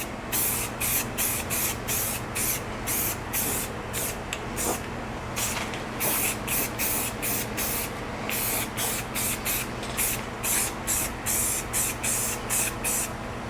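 Spray can of bare metal primer being applied to freshly ground welds on a replacement quarter panel of a Ford Bronco II, heard as a long run of short hissing spray bursts in a steady rhythm, close and fairly loud.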